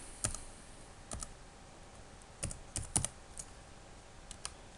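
Close keystrokes on a computer keyboard as an unlock code is entered, with sparse, irregular clicks in small clusters and quiet pauses between them.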